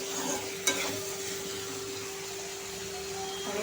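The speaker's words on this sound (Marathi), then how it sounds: "असं मीठ मिक्स करूया ह्याच्यामध्ये." Salt being stirred into pumpkin bhaji in a pan, a soft steady scraping with a faint background hum, one sharper clink of the spoon against the pan near the start, no talking.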